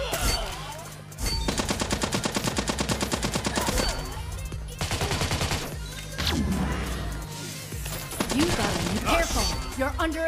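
Rapid automatic gunfire in the video game Raider Six, loud repeated bursts of evenly spaced shots with brief pauses between volleys, plus scattered impact and effect sounds, with no talk over it.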